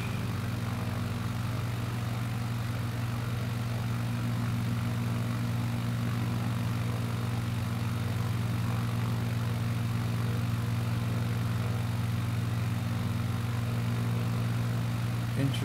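Steady propeller aircraft engine drone in Microsoft Flight Simulator 2020, a constant low throbbing hum with a strong fundamental tone held evenly throughout, no noticeable speech, flying a scenic leg from Palomino to Herlong.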